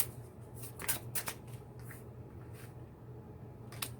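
Tarot cards being shuffled during a full moon reading, with a few quick riffling bursts over a quiet room hum, close and soft, with no talking.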